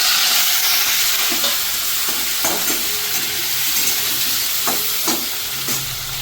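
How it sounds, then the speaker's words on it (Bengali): Prawns hit hot fish oil in a wok with a loud, continuous sizzle and hiss, punctuated by a few clacks of stirring, close up and with no talking. "এবার দিয়ে দেবো চিংড়ি মাছটা।"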